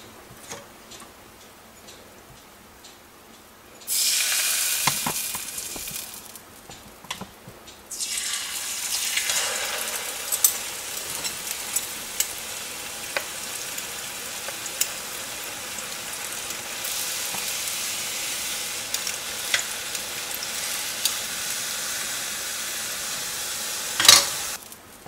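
Achu murukku, rose cookie batter on a mould, fries in hot oil: a sudden loud hiss and crackle erupts as it enters, then settles into a steady bubbling sizzle with scattered pops and ticks, ending on a sharp clink.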